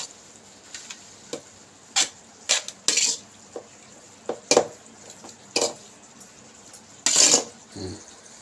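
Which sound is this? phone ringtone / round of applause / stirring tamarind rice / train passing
stirring tamarind rice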